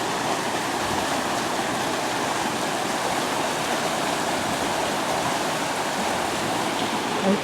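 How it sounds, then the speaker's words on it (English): A shallow river with a good current, running high after flooding near a gazebo, rushes steadily with a continuous broadband wash of flowing water, close and fairly loud throughout with no voices. "There's our little shallow river."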